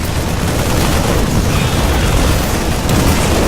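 A Terran siege tank in StarCraft 2 fires, and heavy booming blasts fill the stretch as one loud, dense, continuous roar of explosions.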